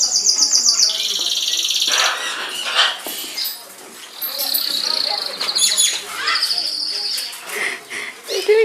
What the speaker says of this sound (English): I'm going to show you some different noises of the birds.